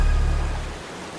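Stream and waterfall opposite a cave in Vagamon, Kerala, a steady rushing water noise that is loud at first and then drops off abruptly partway through.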